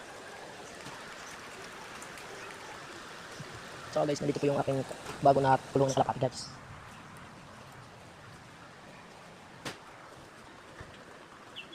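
Heavy rain pours down outdoors beside a pigeon coop, a steady close hiss running the whole time, with someone talking briefly partway through.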